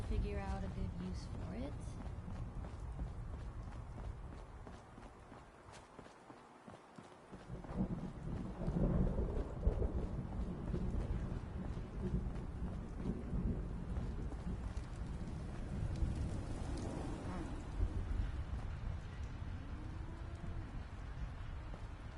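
Steady rain pours in the Fallout 4 video game, with a dip partway through and low rolling thunder swelling in the second half. Voices talk over the downpour.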